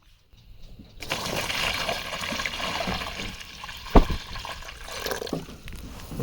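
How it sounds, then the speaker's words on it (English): Water gushes and splashes steadily as a container is filled for young animals on a farm, a continuous close running sound after a brief quiet start, with a sharp knock partway through. "Okay, let's fill up your water."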